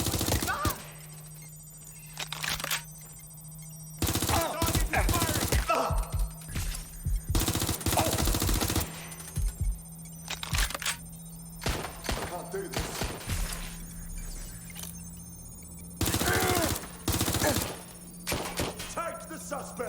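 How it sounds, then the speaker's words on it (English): Gunfire crackles in the video game Watch Dogs: Legion, with loud automatic bursts and single shots coming in clusters between quieter gaps, over a steady low hum. "Shots fired!"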